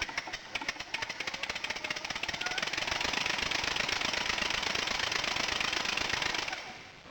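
A model DC generator driven by compressed air runs under load from a 50 watt 12 volt halogen bulb, giving a steady, loud, rapid mechanical whir with fast pulsing that holds throughout and trails off at the end.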